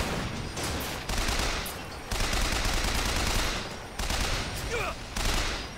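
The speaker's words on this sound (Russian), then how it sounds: "Кто меня стреляет в данный момент." Bursts of gunfire in Bioshock Infinite, a continuous noisy barrage broken into several loud stretches with short dips between them, close and dense throughout.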